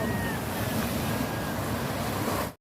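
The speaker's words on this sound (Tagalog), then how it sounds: "ang lakas ng alon" Strong ocean waves crash and roar continuously on a beach, loud and close, with heavy wind buffeting the microphone until the sound cuts off abruptly.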